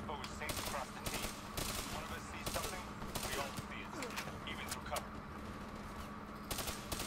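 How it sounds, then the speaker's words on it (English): Rapid bursts of video-game gunfire from Black Ops 3 crackle repeatedly, mixing automatic rattles with single sharp shots over a low steady hum, fairly faint overall. "Who's shooting me?"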